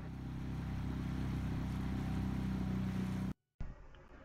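A boat engine drones steadily during a river cruise, a low constant hum with a faint whine, before cutting abruptly to near silence and then a quieter outdoor ambience.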